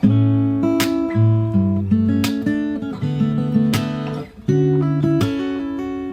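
Fingerstyle acoustic guitar picks two bars of a song, the same chords with a varied melody line over bass notes, close and unaccompanied.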